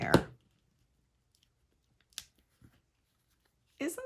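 Scissors cut paper for an altered magazine craft in a few short, crisp snips separated by silence, close and quiet; a brief voice is heard at the end.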